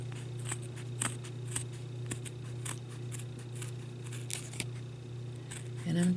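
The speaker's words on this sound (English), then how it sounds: "Cut that off and just keep cutting." Scissors snip repeatedly through glitter lace for a Christmas ornament, a series of short, sharp, close cuts at an irregular pace over a low steady hum.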